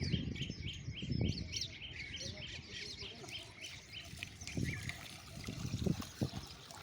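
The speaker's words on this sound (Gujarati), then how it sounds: "પક્ષીઓની સેવા કરે છે" Small birds chirp and tweet in a quick, steady chorus on a university campus in Bhavnagar, fairly faint and continuous, with occasional soft voices and low rustling underneath.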